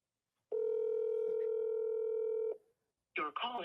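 An outgoing telephone call produces one long ringback tone lasting about two seconds, clear and steady. After a short gap, a recorded voice begins speaking.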